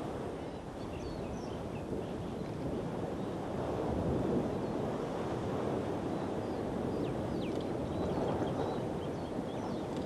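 Ocean surf at Secret Beach on Maui: a steady, broad wash of waves and wind rumble that holds at a constant level throughout, with no voices.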